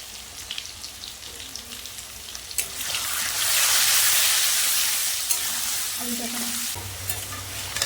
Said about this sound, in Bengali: এবার আলু ভাজার জন্য কড়াইতে তেল দিয়ে দেবো। এবার আলুগুলো ভেজে নেব।